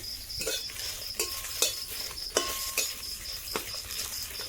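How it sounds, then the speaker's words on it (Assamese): Dried chillies sizzle and crackle in a hot pan, with intermittent scraping stirs of a metal spoon, no voices. "জলকীয়াখিনি আগত ভাজি ল'ম।"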